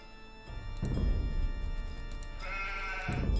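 Sheep bleat in a real-time strategy game, a couple of bleats over steady game ambience, with no talking.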